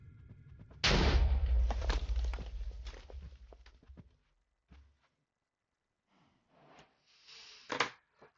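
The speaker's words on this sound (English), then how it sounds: "You're going to hear an explosion, etc., etc." A single loud explosion goes off during a vampire ritual in Minecraft, a sudden boom that rumbles and decays over a few seconds, followed by a few faint, scattered small sounds.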